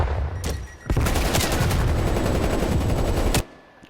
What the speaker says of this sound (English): Now I get shot from the guy on the right as well, so I back off.